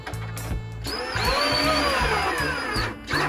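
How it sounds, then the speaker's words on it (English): A power drill drives screws into a cabinet during installation, fitted with a wrong-size bit head; a close, loud motor whine rises and holds for about two seconds between brief clicks and handling noises. "Then as we tighten these screws, got the wrong size head there, it just pulls that right up."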